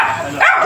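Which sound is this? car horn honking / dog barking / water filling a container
dog barking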